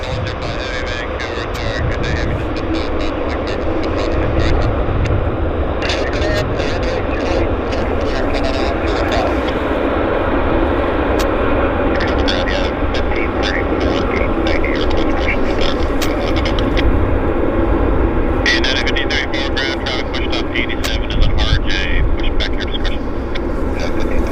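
A Japan Airlines airliner taxiing into the gate at Vancouver airport gives off a steady, loud engine roar and whine that holds for the whole stretch without a break.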